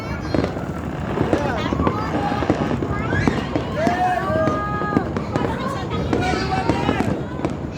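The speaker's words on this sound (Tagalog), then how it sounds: "So, lahat ng sulok may paputok." New Year fireworks in Batangas crackle and pop all around, with dense overlapping bangs at a distance mixed with whistling rockets and people talking nearby.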